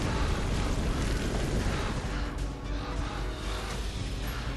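The Explosion of Darkness spell from the Skyforge warlock class goes off as a dense, roaring burst of noise that rumbles continuously and fades only slightly.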